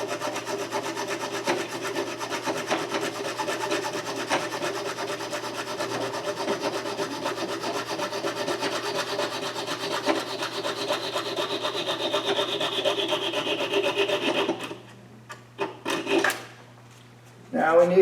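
Aluminum pepper mill parts being cut by hand to length, a steady rasping back-and-forth sawing stroke that runs continuously up close, then breaks off into a few scattered knocks and scrapes.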